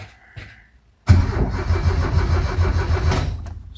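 After 30 years of storage, an Opel Manta GTE's engine cranks over in a steady rhythmic churn. A faint click and a brief whir come first, then the starter turns loud and continuously with no catch.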